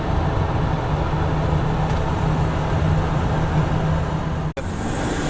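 A 2017 Thor Freedom Elite 22FE mini Class C motorhome with 19,000 miles drives along a road. A steady, loud interior drone of road and engine noise holds throughout, with a brief dropout near the end.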